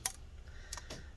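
Flat ribbon cable connectors on a 2017 A1466 13-inch MacBook Air pressed into their sockets, two small sharp clicks about a second apart, close and quiet in a still room.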